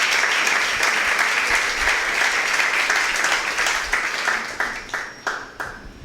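Church congregation applauding during a sermon, a dense sustained wash of clapping that thins out and fades toward the end.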